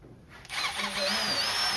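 An electric drill spins up close and loud in a garage during a harmonic balancer install on a 1984 Chevy square body engine rebuild, whining steadily for a couple of seconds with a rising tone.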